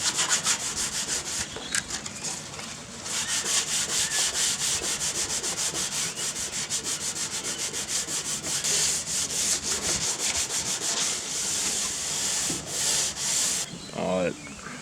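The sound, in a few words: sanding factory paint off truck doors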